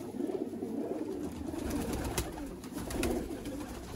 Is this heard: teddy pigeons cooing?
yes